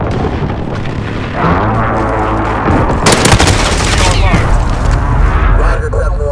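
Call of Duty Modern Warfare called-in fire strike in a Domination match: loud, dense blasts and crackling gunfire around the three-second mark, then continuing rumble and debris, with radio chatter and voices underneath.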